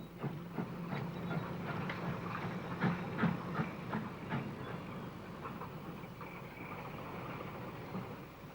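An FD steam locomotive rolls along rails, giving a steady, dense rumble with faint rhythmic clatter throughout, like old archival recording of a train running.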